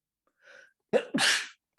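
A short breathy intake followed by one sharp, close sneeze.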